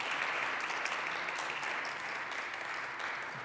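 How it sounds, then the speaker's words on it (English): Audience at a Sunday church service applauding, a steady wash of dense clapping that holds evenly throughout with no talk over it. "Yeah, give them a hand, all of them."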